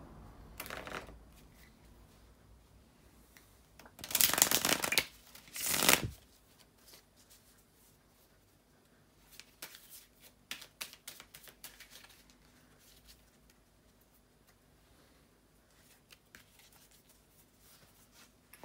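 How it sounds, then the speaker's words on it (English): Tarot cards are shuffled in two loud riffling bursts, followed by softer scattered shuffling and tapping in a quiet room. "just bear with me a couple of seconds, guys, to shuffle the tarot cards"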